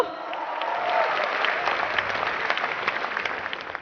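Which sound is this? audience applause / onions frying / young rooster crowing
audience applause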